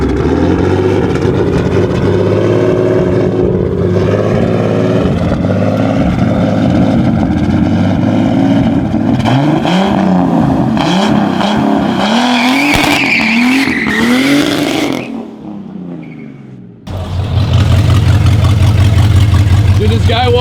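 A car fitted with a zip-tie shift kit revs hard and spins its tires, loud rising engine sweeps and squealing rubber that cut off briefly before a heavy low rumble returns, with people talking over it.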